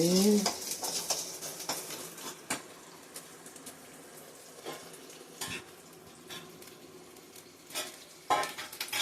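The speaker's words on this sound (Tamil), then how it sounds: "சின்ன வெங்காயம் பூண்டு போட்டு வதக்கிட்டு" Shallots, garlic and curry leaves sautéing in a pan for fish curry, a steady sizzle running under frequent scraping stirs and occasional clinks of a utensil against the pan.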